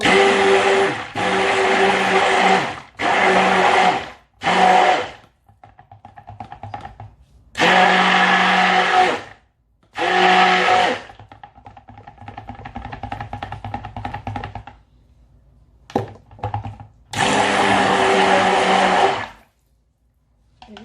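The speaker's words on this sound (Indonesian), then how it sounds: "dengan hand mix agar tercampur rata" A handheld electric mixer whirs through an organic natural soap mixture in loud bursts of a few seconds each, stopping and restarting several times, with quieter stirring between runs and no talking.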